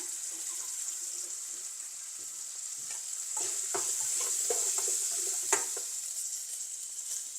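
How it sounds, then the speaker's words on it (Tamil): Food sautéing in a pan on the stove, a continuous bright sizzle with scraping stirring strokes in the middle and one louder clatter, fairly close, no voices. "இது நல்லா வதக்கிட்டு இதுக்கு கொஞ்சம் உப்பு சேர்க்க போகிறோம்"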